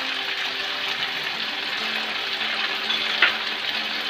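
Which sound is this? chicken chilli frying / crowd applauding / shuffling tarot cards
chicken chilli frying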